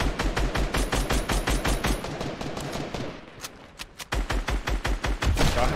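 Rapid bursts of automatic gunfire in the Fortnite video game crack out loud and close in a fast steady rhythm, break for a moment with a few scattered shots, then resume as another sustained burst.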